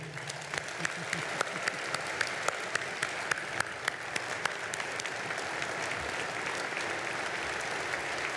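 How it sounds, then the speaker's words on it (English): Guests at a Super Bowl breakfast award ceremony applaud a recipient walking up, a broad steady round of clapping with a few sharper individual claps standing out near the front. "how about a round of applause for this special recipient coming up here"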